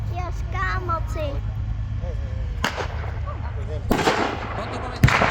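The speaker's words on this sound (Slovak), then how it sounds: "V tomto momente môžem vidieť a počuť imitáciu výstrelu z húfnice Zuzana 2." A simulated shot from a Zuzana 2 howitzer sounds as sharp, loud blasts with booming tails, the strongest near the end, while people talk in the foreground, including a child.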